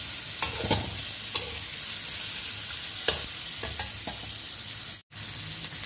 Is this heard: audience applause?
no